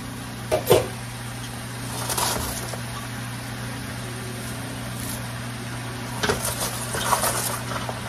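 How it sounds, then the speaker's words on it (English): Cabbage cooking down in a pot for braised beef shanks and cabbage, stirred with a utensil. A few scattered clanks and scrapes against the pot sit over a steady low hum and soft simmering. "let's add the rest of the cabbage, and I'll let that cook 1 or 2 minutes, and then I'll stir it again"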